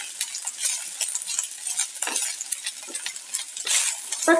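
Broccoli, cabbage and tomato get stirred in a hot pan for a broccoli salad, giving a steady sizzle with scraping and light clinks of the spoon against the pan, close and continuous.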